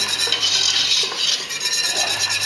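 A spoon scrapes and rubs steadily against a pan while khandvi batter is stirred continuously, a close, rasping swish repeating without pause and no voices.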